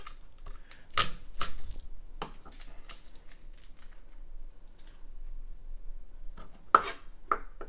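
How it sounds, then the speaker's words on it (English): A knife loosely chopping garlic on a board: a handful of sharp, close taps scattered irregularly, with quiet gaps between them and no speech. "And loosely chop your garlic."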